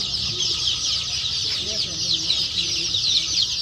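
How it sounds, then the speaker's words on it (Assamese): A large flock of 25-day-old local chicken chicks on a farm chirps continuously, a dense, high, shrill peeping chorus close by, with a voice faintly underneath. "এইটো হৈছে অৰিজিনেল লোকাল মুৰ্গীৰ পোৱালি"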